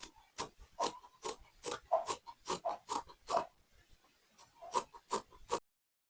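Scissors snip through fabric while a two-tone bubu dress is being made, a brisk series of about a dozen close, crisp cuts in steady rhythm with a short pause near the end.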